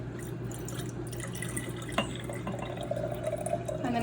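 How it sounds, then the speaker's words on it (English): Water is poured into a jar, heard as a faint, steady trickle and splash with a rising filling tone near the end, all quiet and close. "take the water and pour it into our jar"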